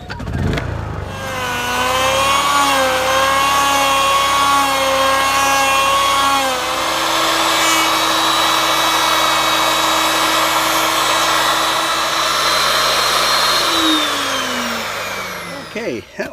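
A power tool bores a hole in a wooden skid for a rain water tank, whining loud and close with a steady motor tone that shifts pitch as the bit works down and then winds down.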